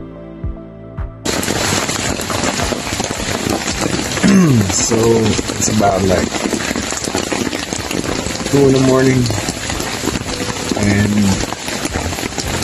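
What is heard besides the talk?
heavy rain falling on tent and tarp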